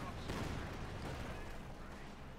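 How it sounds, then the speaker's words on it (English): Katyusha rocket artillery barrage in Company of Heroes 2, a dense rumbling roll of launches and impacts that starts with a sharper hit, then fades slightly under battle ambience. "More Katyusha fire."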